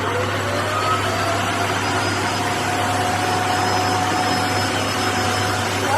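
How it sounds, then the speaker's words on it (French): A vacuum cleaner roars steadily and loudly at close range as it sucks sriracha sauce off the floor, its motor humming without pause and no one speaking over it. "je suis censée montrer que l'aspi, il est vraiment ouf"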